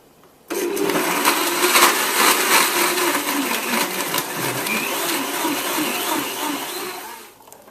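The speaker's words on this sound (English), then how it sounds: "Blend on high for 60 seconds" A blender runs on high with smoothie ingredients, vodka and ice cubes among them, starting abruptly and holding a loud, steady whirring roar for about seven seconds before cutting off.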